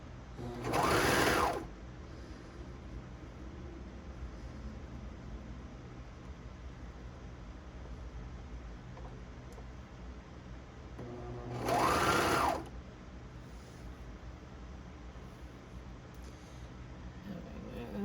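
Sewing machine stitching a maxi dress strap, with two short whirring bursts about ten seconds apart over a quiet background hum.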